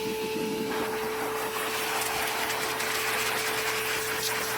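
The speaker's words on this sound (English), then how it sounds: "I have the blower in hand" A pet grooming blower running with no heat at a lower setting to dry a damp dog's fur, giving a steady, loud airy roar with a constant motor hum that holds unbroken throughout, with no talking.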